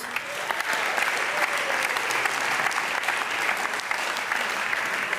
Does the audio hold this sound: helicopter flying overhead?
no